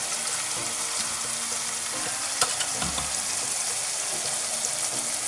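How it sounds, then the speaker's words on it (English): Softened onions frying in a pan, a loud, steady, close sizzle with faint stirring knocks throughout and no speech. "the onions gone soft now, so I could add the spices"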